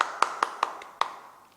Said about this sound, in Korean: 전능하신 하나님께 영광의 박수를 내겠습니다